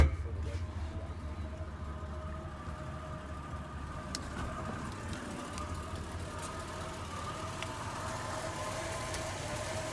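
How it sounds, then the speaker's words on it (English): A 1967 Buick Skylark engine idles steadily in the background, a low continuous rumble with a faint whine, fairly close and even throughout. "See, the motor runs nice."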